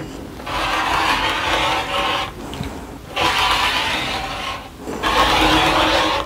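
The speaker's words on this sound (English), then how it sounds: "now I'm going to cut across the length of the fabric to cut my log cabin strips out" Fabric is cut across its length into strips for a log cabin quilt, heard as three sustained rasping passes separated by short breaks, close and moderately loud.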